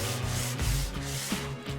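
A belt sander works over old wooden floor joists with a rough, rubbing grind, its sustained hum broken by brief dips as the tool shifts across the wood.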